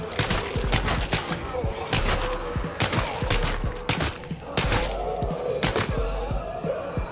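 Rapid gunfire in the zombie survival video game State of Decay 2, repeated bursts of loud automatic shots in clusters with short gaps, up close and dominating the mix.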